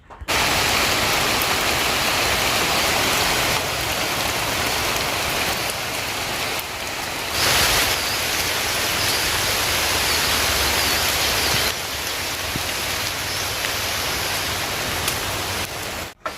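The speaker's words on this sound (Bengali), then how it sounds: "এখানে আবার বেশিক্ষণ দাঁড়িয়ে থাকবো না কেননা বেশিক্ষণ বৃষ্টিতে ভেজাভেজি করলে পরে জুসোনার আবার জ্বর সর্দি কাশিটা বেড়ে যা" Heavy rain pours steadily, a dense roar of drops hitting surfaces, loud and continuous with slight swells and no voices.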